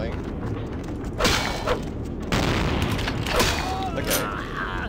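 Shotgun blasts in the video game Vampire: The Masquerade – Bloodlines, several loud booming shots with mechanical clatter between them, over continuous game sound.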